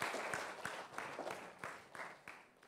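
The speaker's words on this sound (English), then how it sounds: "Give a big round of applause to him." A small audience claps in rapid, rhythmic bursts, fairly close and fading slightly toward the end, with no talking over it.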